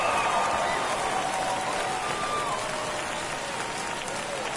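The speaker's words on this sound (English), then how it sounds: "Well, that'll fire up the home crowd." A stadium crowd cheers after a home run in the MLB The Show baseball video game during a minor league Richmond Flying Squirrels vs. Altoona Curve matchup, a dense sustained roar of applause and noise throughout.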